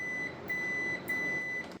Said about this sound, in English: a continuity beep. And that confirms that your button has actually got good conductive surfaces.